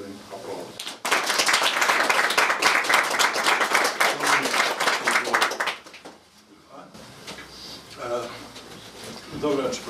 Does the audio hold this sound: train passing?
no